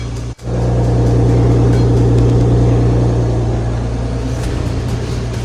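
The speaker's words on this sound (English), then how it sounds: "now it's time to drop the car down and go do a test drive." BMW E36 325i on a road test drive after differential bushing replacement, with a steady, loud engine drone and road rumble, preceded by a brief dip at the start.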